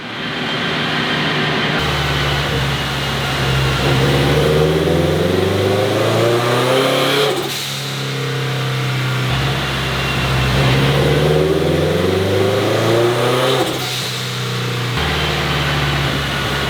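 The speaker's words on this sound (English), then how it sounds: "I think they're just doing some baseline pulls right now just to kind of see where the car is at, and then we're gonna get into some power pulls" Turbocharged Subaru BRZ engine on a dyno, revving repeatedly through rising pulls, each climbing in pitch then dropping back to a lower idle between runs, loud and close with no talk.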